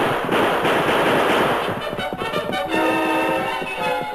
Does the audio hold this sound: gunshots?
yes